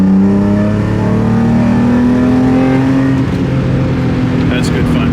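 A BMW E30 engine revs hard, its harmonic drone rising and holding loud and close across the whole stretch, with a little voice chatter underneath.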